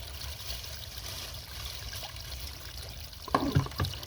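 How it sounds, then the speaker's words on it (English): Spring water trickles steadily into a bottle outdoors, a continuous soft stream with a couple of brief knocks and splashes near the end. "And now filling the bottle is the name of the game."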